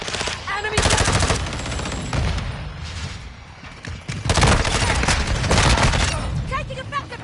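Rapid automatic gunfire in Call of Duty Modern Warfare 2 multiplayer Domination on the Shipment map, dense bursts and volleys of shots in quick succession, loud and close, with an announcer-style voice briefly under the shooting.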